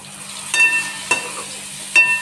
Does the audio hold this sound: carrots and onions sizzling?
yes